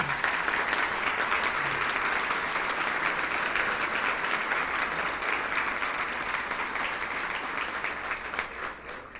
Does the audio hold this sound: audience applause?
yes